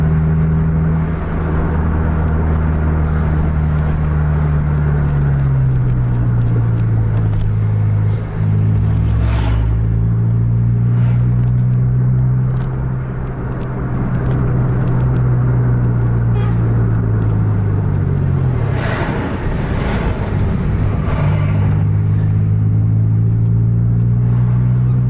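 A bus engine drones as the bus drives along a road at night near the Aceh–North Sumatra border. It is a loud, close, sustained low rumble, its pitch rising and falling with gear changes and speed.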